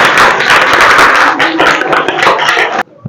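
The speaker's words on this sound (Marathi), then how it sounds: "अरे टाळ्या वाजवायच्या त्यासाठी." Schoolchildren in a primary school classroom clap together loudly and continuously during a quiz. The dense applause stops abruptly near the end, leaving near-silence.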